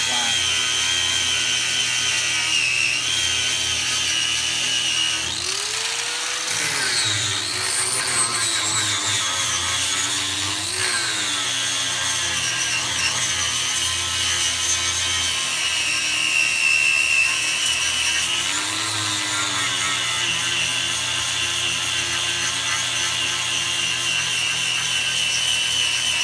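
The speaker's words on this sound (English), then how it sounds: "I'm just grinding off the weld, just putting the holes, make it flat." Power tool grinding off a weld on a 1964 Ford Fairlane race car build, a steady loud whine running throughout with pitch dips and surges as the load changes, no talk over it.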